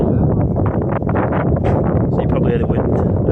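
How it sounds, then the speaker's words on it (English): Strong wind buffets a hillside at midnight, a dense steady roar pounding the microphone for the whole stretch, loud and close with no letup. "So you probably hear the wind."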